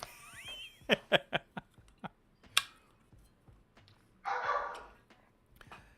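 A dog barking indoors, a quick series of sharp close barks followed by a single louder yelp, then a brief rough hissing burst, with quiet gaps between.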